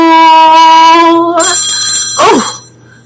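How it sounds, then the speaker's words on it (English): A telephone rings loud and close with a bright electronic trill, then cuts off partway through, leaving a short burst of quieter sounds and silence. "Let me make sure the phone doesn't ring again and cut off my wisdom app again."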